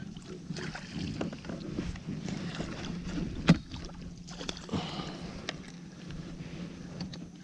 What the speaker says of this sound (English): Stupid ass kayak, come on.